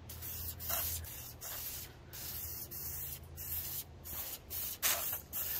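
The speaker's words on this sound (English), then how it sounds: "I'm gonna go when I get the spray and I'm gonna put it on" An aerosol can hisses out metallic paint in several spurts of varying length, with short pauses between sprays, close and fairly steady.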